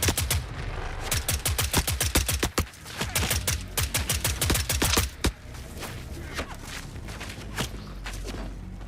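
Rifle fire in The Forever Winter, a rapid run of sharp close shots in bursts over the first five seconds, then a few isolated shots trailing off into low ambient rumble.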